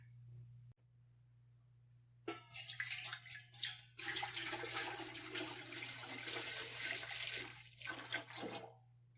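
Goat milk poured from jars into a pot, a loud continuous gushing pour starting after a low steady hum, with brief breaks between pours and no talking.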